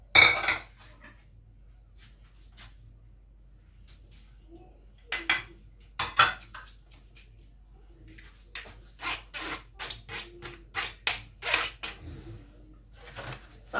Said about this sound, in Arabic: ودابا غادي نبقى نخلط